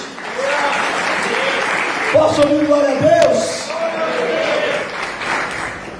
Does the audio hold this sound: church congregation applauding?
yes